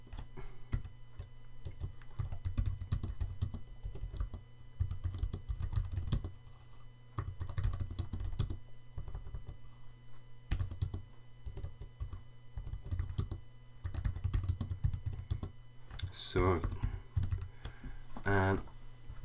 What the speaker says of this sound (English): We can type in some text.